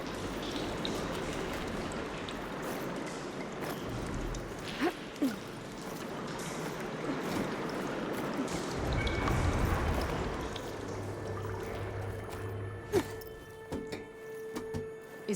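Water flowing and circulating through pipes in the video game Horizon Forbidden West, a steady broadband rushing and trickling wash with occasional low hums and small clanks, no voices.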